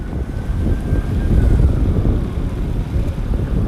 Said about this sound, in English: A bit windy today guys